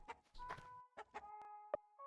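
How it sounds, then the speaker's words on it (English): Short, clipped clucks from a hen in the LISA The Painful video game, several separate calls with gaps between them, heard clearly and alone. "My prized hen."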